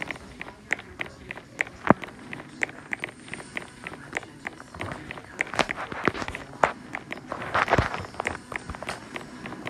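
Rapid footsteps patter through a Roblox Murder Mystery round, a near, steady run of irregular steps with brief clattering bursts and no talk over them.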